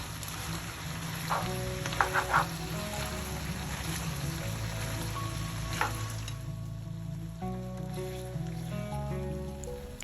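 Cavatappi pasta and Swiss chard cooking together in a full pan, a steady close sizzle with a few stirring scrapes and clinks, under a faint background hum, without speech.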